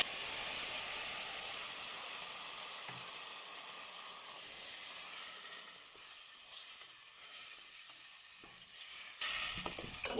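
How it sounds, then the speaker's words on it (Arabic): Tomato juice poured onto frying onion in a home kitchen hisses and sizzles steadily, a soft continuous crackle that fades slightly then flares again near the end. "وادي البصله خلاص كده، وهنحط عليها عصير الطماطم."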